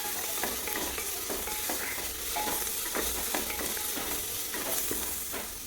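Crushed ginger and garlic fry in hot oil in a pan for a beef roast, a steady close sizzle broken by repeated clinks and scrapes of stirring throughout.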